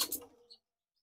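Pigeons close by give a brief, soft coo that fades within about half a second, leaving silence.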